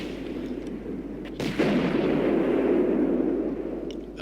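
A tank's main gun fires in a video game, one deep booming shot near the middle with a rumbling tail over steady battle ambience.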